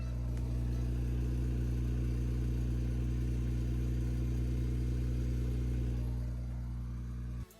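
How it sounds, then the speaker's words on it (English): BMW E92 335i with the twin-turbo N54 engine rumbles at a steady idle for about seven seconds, its deep, loud exhaust drone holding even before cutting off abruptly at the end. "here's a little exhaust sound"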